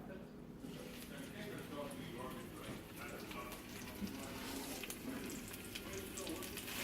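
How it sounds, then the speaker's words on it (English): A packed summer squash and salmon patty goes into hot oil and fries with a continuous crackling sizzle, close and fairly even throughout, with a faint hum underneath and no clear talking. "I'm going to pack together a patty. And put it in my oil."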